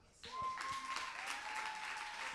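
An audience at a televised youth contest semifinal breaks into applause as a finalist's name is called, brisk clapping starting abruptly after a quarter second and continuing under a steady tone.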